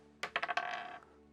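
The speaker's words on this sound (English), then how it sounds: "To roll the dice" Dice roll during a board game, giving a quick burst of four or five light clattering taps that settle into a short rattle, close but faint, with no talk.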